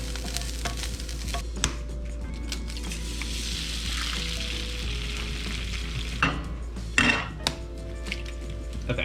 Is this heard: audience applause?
no